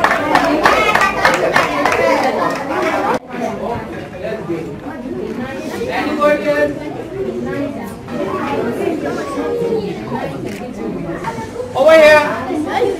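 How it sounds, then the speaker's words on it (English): Children clapping together at a school chefs' day cooking activity, a burst of quick applause up front, then chatter and voices of a lively group continuing around it. "Clap for yourself."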